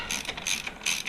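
A ratchet driving a Torx bit on frame slider bolts of a Triumph Street Triple RS motorcycle gives quick, close clicking bursts, three short runs of pawl ratcheting in about a second, with no talk.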